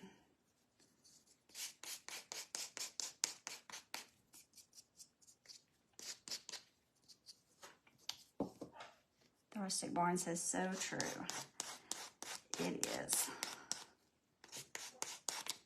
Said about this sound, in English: I'm just kind of sanding these edges up, just stressing it just a little bit.